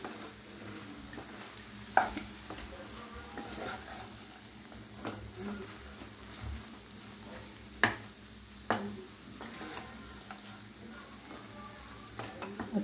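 Nuts being stirred into sabudana in a frying pan, a soft low sizzle under occasional sharp spoon scrapes and clinks against the pan, fairly quiet and close.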